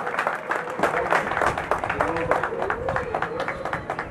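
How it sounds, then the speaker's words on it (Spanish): Lively applause from a crowd at the finish of a 21K race, dense clapping throughout with cheering voices rising above it. "Así de que un fuerte aplauso para ellos, los ganadores de esta 21K."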